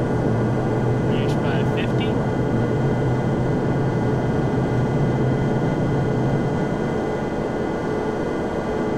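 Aircraft engine in a flight simulator game during the takeoff roll, a steady loud broadband roar with a low drone that holds throughout, a few faint higher tones briefly near the start.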